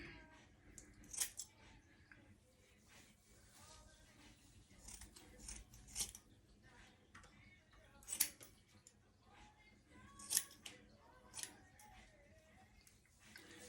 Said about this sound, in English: I'm just gonna trim some of the hair off.